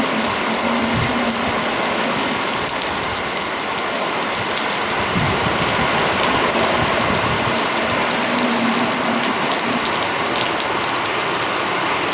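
Steady rain falls in a dense, continuous hiss with fine crackling patter, loud and unbroken for the whole stretch, with a faint low hum underneath and no voices.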